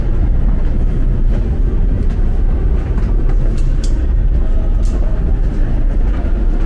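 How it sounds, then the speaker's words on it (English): A work train rolling past outdoors, steady loud rumble and rattling of rail cars filling the whole stretch, with faint high squeals now and then and no talk. "Gotta get that work train."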